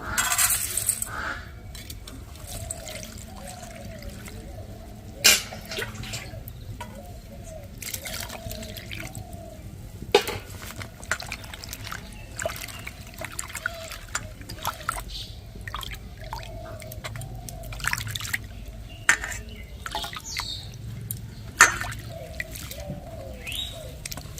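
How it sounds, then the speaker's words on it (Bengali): Flattened rice (chire) being washed in water, with sloshing and dripping sounds and sharp little clinks against the bowl, close and fairly quiet throughout. "আমি চিড়েগুলো এবারে ভালো করে জল দিয়ে ধুয়ে নেব"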